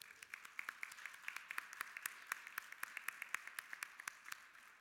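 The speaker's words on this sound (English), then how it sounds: "So I'd like to give her a round of applause." A small group claps in a quick, fairly sparse rhythm, the individual hand claps crisp and distinct, heard faintly at a distance without voices.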